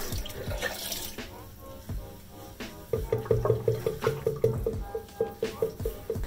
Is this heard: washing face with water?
yes